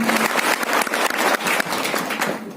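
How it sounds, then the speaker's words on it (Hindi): Applause from a seminar audience in a hall, dense rapid clapping that stays loud throughout and eases slightly toward the end. "जोरदार ताली बजाइए"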